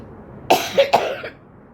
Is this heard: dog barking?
no